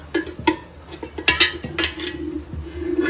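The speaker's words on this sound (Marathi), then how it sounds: "कढई तापायला ठेवली आहे मेथी मटर मलाईसाठी. त्याच्यामध्ये आपण टाकूयात 2 चमचे तेल." Metal spoons clink against a heated kadai as two spoons of oil go in, a series of sharp, close utensil taps and scrapes with a faint sizzle between them, no voices.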